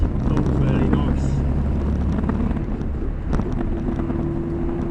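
A 1962 Morris Minor's engine running steadily while the car is driven, a continuous low rumble with wind buffeting, heard alongside someone talking.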